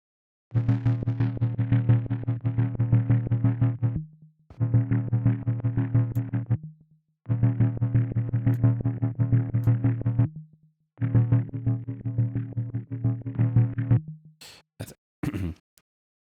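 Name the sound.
high-frequency noise in synth signal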